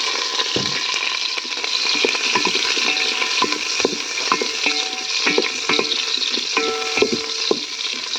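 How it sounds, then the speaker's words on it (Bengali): Pointed gourd pieces fry in oil with bay leaf, a crackling sizzle close by with frequent sharp pops and scraping stirs, steady throughout and no speech. "পটলটা একটু ভেজে নেব।"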